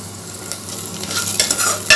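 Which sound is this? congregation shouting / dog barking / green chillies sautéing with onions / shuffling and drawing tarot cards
green chillies sautéing with onions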